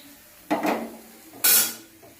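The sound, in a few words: wok (karai) being placed on the stove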